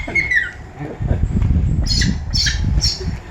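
A captive eagle at a birds-of-prey show calling back, giving several harsh, high squawks in quick succession over a noisy outdoor crowd background, with people talking nearby.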